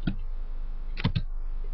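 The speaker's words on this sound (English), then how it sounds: "we want to type airmon-ng," A few quick clicks of computer keyboard keys sound close and crisp as a command is typed. One isolated press comes first, then a pair of taps after a short pause, over a faint steady hum.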